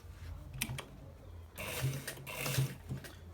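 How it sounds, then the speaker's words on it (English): Sewing machine stitching the front pocket of a designer shirt with buttons, a quiet start with a few clicks, then a whirring run of rapid stitching in two bursts, close by. "So we are stitching the front pocket"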